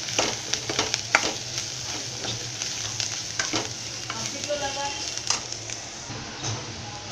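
Golden-browned onions with a spoon of turmeric frying in a pan, loud continuous sizzle broken by repeated scraping stirs, with a voice faintly present underneath.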